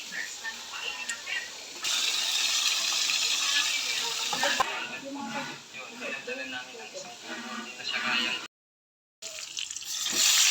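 Water runs steadily from a tap as it is fetched, a close, continuous rushing hiss that briefly cuts out near the end, with voices talking over it.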